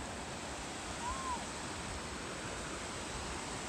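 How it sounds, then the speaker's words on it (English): Clear water flows far below a cliff along the Pacific Crest Trail, a steady broadband rush like a distant stream or falls with no breaks. "all of a sudden we came over the edge and it's just a cliff down to super clear flowing water"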